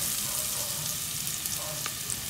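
Onion and garlic sizzling in butter in a pot for chicken sopas, a steady, even hiss of frying with light stirring throughout.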